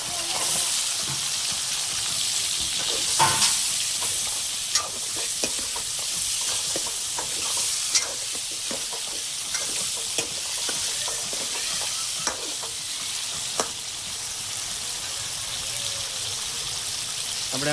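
Cut paalva fish pieces dropped into gravy in a pan, a continuous sizzle and bubbling broken by frequent clicks and scrapes of stirring, close and steady with no talk.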